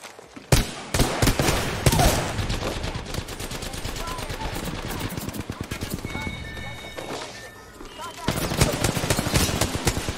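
Rapid automatic gunfire in the Apex Legends video game rattles in loud, fast bursts, with a short pause before another close, sharp volley.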